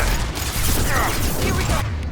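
Squad weapons fire in Mass Effect 2, with dense overlapping bursts of gunfire in a loud, noisy firefight that runs continuously.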